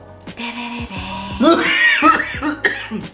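A few close coughs mixed with throat-clearing sounds against a tonal background, loud and abrupt.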